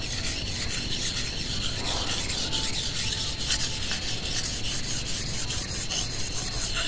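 A knife blade is drawn across a whetstone in continuous rough, scratchy rubbing strokes, close and steady, building up slurry as it grinds.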